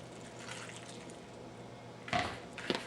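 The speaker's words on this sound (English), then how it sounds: "I'm just going to add a little more water." Water poured into whole wheat bread dough in a bowl, a soft splash and trickle that swells briefly near the end over a faint background, with no talking.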